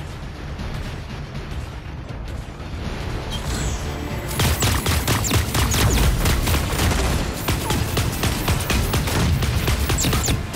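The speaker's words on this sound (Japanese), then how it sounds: "銃声よ、気を引き締めて。" Rapid bursts of gunfire from the mech battle video game Super Mecha Champions, quieter sporadic shots at first, then dense loud volleys of repeated cracks filling most of the stretch, with no talk.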